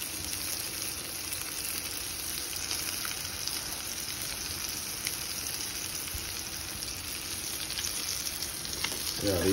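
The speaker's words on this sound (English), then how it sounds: "fillet of kabeljau with any fish rub of your choice in a nice hot pan. And it is sizzling away" Cod (kabeljau) fillet coated in fish rub sizzles steadily in a hot pan, a continuous close crackling fry with faint stirring, no talk over it.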